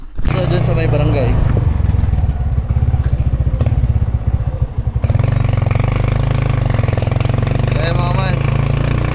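Motorcycle engine idling close by with a steady low, throbbing putter that dips briefly in the middle before settling back, while someone talks over it.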